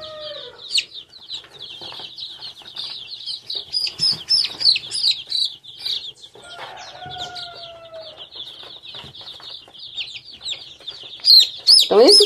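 Chickens being dewormed give rapid high chirps and clucks close by in busy overlapping bursts, with a few louder calls near the end and faint background sounds between.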